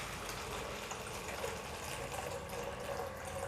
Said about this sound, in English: put this chlorinated water into this